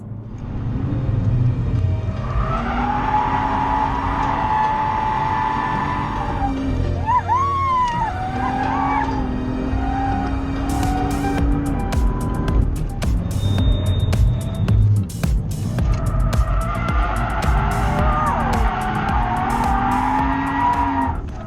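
A BMW M2 with 365 horsepower sent to the rear wheels drifts on a track, engine roaring and tyres squealing in long wailing slides, with pitch sweeping up and down as it passes close by.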